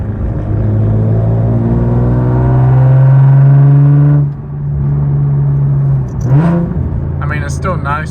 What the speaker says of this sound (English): if I put it to neutral, it kind of just revs up by itself